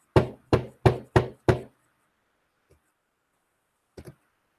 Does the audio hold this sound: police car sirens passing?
no